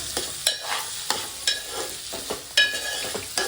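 Chicken and onions sizzle in hot oil while a utensil stirs and scrapes the pan in quick, irregular strokes, close up with no voices.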